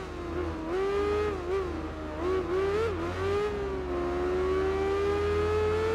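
Motorcycle engines in the Tourist Trophy racing game drone loudly and continuously, the pitch rising and dipping as the bikes accelerate and shift, with no talking.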